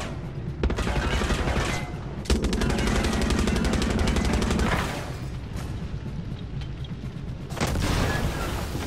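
Gun firing in Far Cry 6, with dense rapid machine-gun bursts and heavy booming shots roaring loud and close, briefly pausing between volleys.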